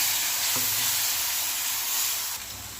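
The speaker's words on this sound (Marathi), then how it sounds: "गॅस कमी करा वाटण थोडंसं परतून घ्यायचं" A ground masala paste with a few spoons of water sizzles and fries steadily in a pan for a Maharashtrian green tomato curry, with a brief stir near the start and the hiss easing slightly toward the end.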